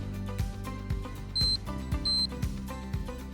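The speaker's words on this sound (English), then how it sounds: "That series of beeps means that a connection has been made." A Stealth Burner gas fireplace burner's 3F electronic ignition valve gives out short electronic beeps, two of them clear and steady amid a busy background of clicks and low hum.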